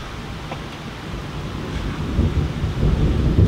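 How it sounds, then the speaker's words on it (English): Low thunder rumbles after rain, building gradually louder over a few seconds amid broad outdoor noise, with no talk. "Still got some thunder around us though, you can hear that."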